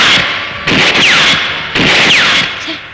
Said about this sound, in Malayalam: വിഷ്ണുവിനെ മാഡം വെടിവെക്കാൻ പഠിപ്പിക്കുക.